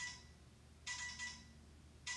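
A phone ringtone mimicking a telegraph: bursts of bright, high electronic beeping that come in two clear pulses separated by silence, fairly quiet, with no voices.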